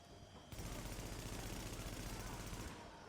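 Sustained automatic gunfire from The Division bursts in abruptly after a quiet start, a dense, loud continuous rattle lasting about two seconds before cutting off.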